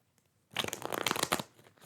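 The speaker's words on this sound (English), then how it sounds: "All right, one more shuffle." A single short, close riffle of tarot cards being shuffled, a crisp rustling flutter lasting about a second.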